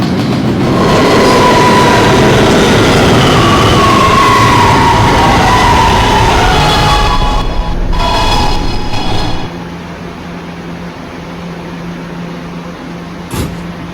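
New York subway R211A B train running and braking, a loud roar with rising and falling motor whine that fades to a quieter hum as it slows, ending with a brief chime.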